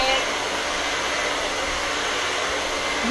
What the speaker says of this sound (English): Utilizing our Express Ion Dry Plus Blow Dryer, it's going to give her a beautiful shine, beautiful finish.